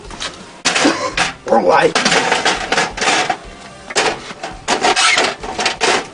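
The top of a home-built computer case, put together with duct tape and WD40, is fitted on with a run of loud close clattering knocks and scraping rubs, while people talk.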